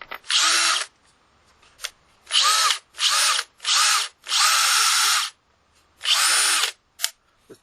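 Bosch DDS182 brushless compact drill run in repeated bursts of about a second each, a loud, close whine starting and stopping with short quiet gaps and small clicks between.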